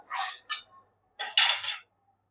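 A metal kadai used for making jaggery churma ladoo is gripped and handled with tongs, giving a few close, bright metallic clinks and scrapes in short clusters with silence between them.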